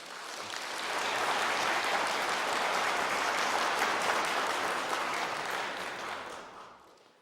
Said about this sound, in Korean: 여러분들 따뜻한 환영의 박수 부탁드립니다.